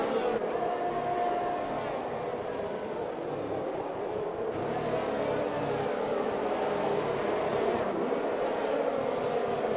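Racing car engines in a racing video game at Abu Dhabi, a steady loud whine with shifting pitch and gear changes, several cars droning close together throughout.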